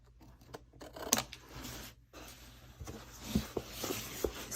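Scissors snip through material at an angle while making a secret compartment box, a few short close cuts and rustles over quiet background.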